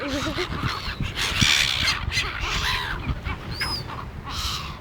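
Loud, harsh squawking and honking from several seagulls at a beach picnic, overlapping in a busy outdoor scene with steady background noise.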